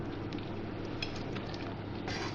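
Chicken and vegetables for shashlik are stirred through a thick sauce in a pan, with a soft continuous sizzle and faint scraping and clinks of the utensil, close by and fairly quiet.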